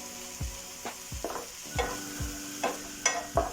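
Red chillies fry in a pan for tomato chicken, a low sizzle punctuated by a regular series of spatula knocks and scrapes against the pan, close by with no voices.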